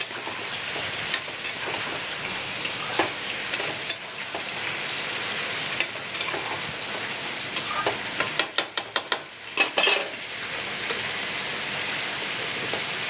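Turmeric frying in a pan while it is stirred, giving a steady close sizzle with a scatter of sharp scraping clicks and spatters, which bunch together near the end.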